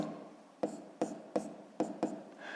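Five quick, crisp pen strokes scratch across paper as an asterisk is written by hand during a maths exercise, close and quiet.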